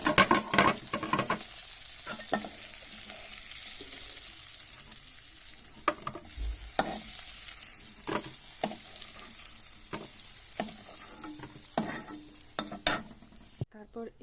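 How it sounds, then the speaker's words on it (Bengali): Dried fish fries in hot oil with a steady sizzle while a utensil scrapes and stirs the pan in sharp, irregular knocks, close and alone without talk. "এই যে দেখুন শুটকিটি ভাজা হয়ে গিয়েছে"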